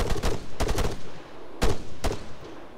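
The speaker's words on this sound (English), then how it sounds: "I think someone's shooting at the AI." Gunfire in the Arma III video game, a loud nearby burst of rapid shots followed by two sharp single cracks, each ringing briefly, with no talk over them.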